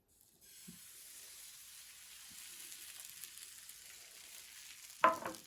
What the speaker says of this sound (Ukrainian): як зручно смажити на двох пательнях